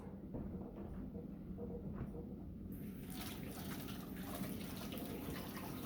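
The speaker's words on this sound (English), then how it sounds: "I'm going to run over here, wash my hands." Tap water runs steadily from a faucet as hands are rinsed clean of flour in a home kitchen, a continuous close splashing gush that brightens and strengthens partway through.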